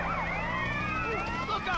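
A police car siren sounds in a train-robbery video game, with several overlapping wailing sweeps that rise and fall, loud and close, over a steady low engine drone.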